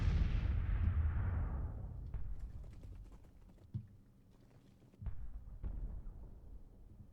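Civil War artillery fires in the Grand Tactician battle game: a heavy boom rolls away at the start, then a couple of duller thuds land a few seconds apart over a low rumble.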